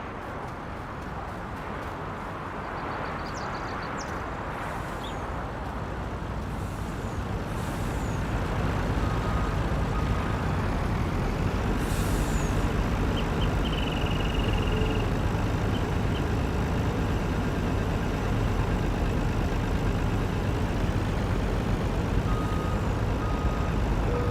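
Truck engine droning steadily in Farming Simulator, a continuous loud rumble that swells partway through, with short hissing air-brake releases and faint beeps on top.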